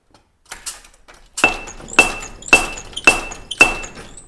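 A pneumatic power hammer runs at 60 PSI in a forge workshop, its blows landing in a steady rhythm about every half second after a few lighter taps, five loud, sharp, ringing strikes close by.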